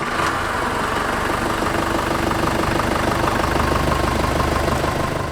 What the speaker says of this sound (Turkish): aküden çekeceğimiz arabayı çalıştıracağız